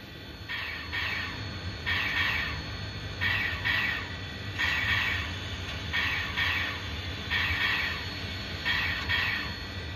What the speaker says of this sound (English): Or activates emergency, so it releases the air.